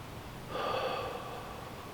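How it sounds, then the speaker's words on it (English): A single deep, relaxing breath drawn in and let out slowly, close and soft, during a calm exercise outdoors near woods. "deep, relaxing breaths."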